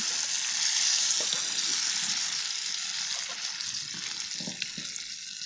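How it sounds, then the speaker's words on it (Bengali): Bottle gourd curry sizzles steadily in a hot pan after a tempering, a dense continuous frying hiss with small pops and stirring scrapes throughout. "সুন্দর করে বেজে নিচ্ছি এরপর লাউ তরকারিটা দিয়ে দেব"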